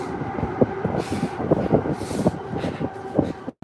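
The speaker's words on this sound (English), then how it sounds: "That was just the train going on top of me." A train rumbles past directly overhead while someone is out on foot, a loud, steady roar with rhythmic clanks from the wheels that cuts off abruptly at the end.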